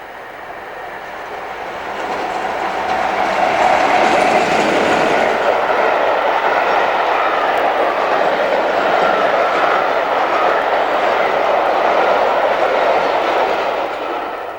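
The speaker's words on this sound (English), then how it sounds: "56074 heads the Kent Coastman Rail Tour from Plymouth to Ramsgate." Class 56 locomotive 56074 hauls the Kent Coastman rail tour from Plymouth to Ramsgate, a steady loud rumble of engine and rolling wagons that swells in the first few seconds and holds for the rest.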